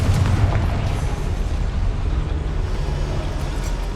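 A Confringo explosive spell goes off inside a goblin mine in the video game Hogwarts Legacy, producing a loud, sustained booming rumble that carries on without a break.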